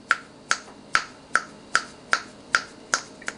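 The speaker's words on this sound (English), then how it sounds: "I just want to show you when I snap my fingers" Crisp finger snaps near a review of a FoodSaver Premier vacuum sealer, eight or nine sharp, evenly spaced snaps at roughly two per second, close and clear against a quiet room.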